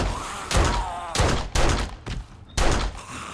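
Gunfire rings out while shooting zombies in the survival game 7 Days to Die, with four loud, sharp shots spaced about half a second to a second apart, each followed by a short booming decay.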